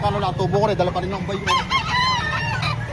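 Chickens cluck and squawk at a busy poultry market in Lipa, Batangas, close and loud under overlapping conversation in Filipino, with a harsh honking call standing out midway.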